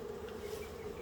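Steady, low droning buzz of many bees close by at an open hive, continuous and even throughout with no talking.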